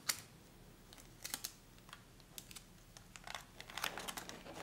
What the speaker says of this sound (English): Now I'm going to go ahead and wrap the top, and I'm going to tape the top.